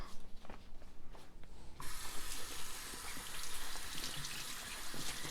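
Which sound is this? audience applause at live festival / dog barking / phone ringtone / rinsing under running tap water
rinsing under running tap water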